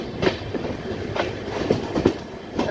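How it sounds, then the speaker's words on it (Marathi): A train pulls out of Kudchade railway station on a monsoon run toward Madgaon, its wheels clacking over rail joints in regular paired beats under a low rolling rumble, heard from on board and moderately loud. "आपली ट्रेन जी आहे ती कुडचडे रेल्वे स्टेशनवरून निघालेली आहे"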